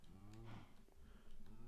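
In Minecraft, a cow gives low, drawn-out moos, fairly close and clear against quiet surroundings.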